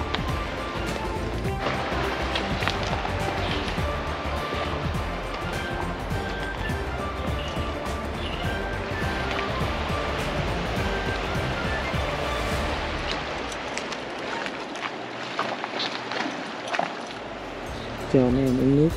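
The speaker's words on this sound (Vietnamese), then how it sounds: "mem ngựa sẽ đi qua dòng sông." Horses wading across a river on a trail near Banff, Canada: continuous rushing, splashing water noise under a person talking, with the sloshing thinning out toward the end.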